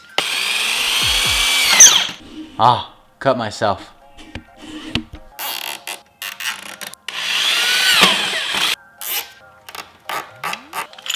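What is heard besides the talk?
power drill drilling holes in crate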